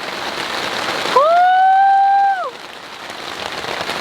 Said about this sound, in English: So unfortunately, this rain has really been slowing us down.